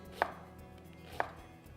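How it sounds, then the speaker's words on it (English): A kitchen knife cuts through an onion on a cutting board while fish tacos are prepared, giving two crisp, separate chops about a second apart, close and clear over a quiet room with no talking. "I'm going to just cut a little bit of this onion"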